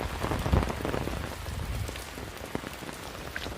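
Wind-driven rain pours steadily on surfaces in Kabaraka village, Dwarka, a dense close patter with heavier spatters near the start and no one speaking.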